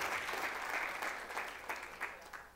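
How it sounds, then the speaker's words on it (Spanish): A congregation at a bilingual Monday evangelistic church service applauds, starting as soft continuous clapping that thins out and fades, leaving a few scattered louder claps near the end. "I want you to give these applause here for Nidia and Jose."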